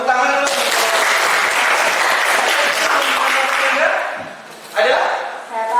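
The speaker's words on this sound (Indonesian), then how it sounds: "Tepuk tangan dulu." An audience at an Indonesian teachers' coaching session claps steadily for several seconds, fades briefly, then swells again.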